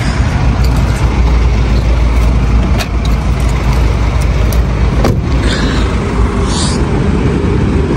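A long-haul truck drives along a national road between Belgium and Italy, a loud, steady cab rumble of engine and road noise continuing throughout, with a few faint clicks on top.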